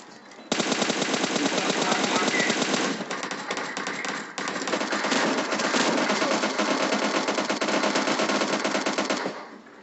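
Dense, rapid automatic gunfire from a video game firefight runs almost nonstop and loud for about nine seconds, with bursts overlapping and barely a pause.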